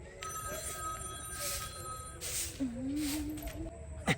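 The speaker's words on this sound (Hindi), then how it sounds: "फोन आयल है हां चला मोबाइल में बजियो देखी ना केकर फोन आयल" A mobile phone rings with a repeated electronic tone in a domestic setting, while a rising tone sweep and some background noise come and go alongside it.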